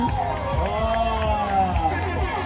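A crowd at a school prize-giving ceremony cheers and applauds, with continuous hubbub and voices over a steady noisy wash.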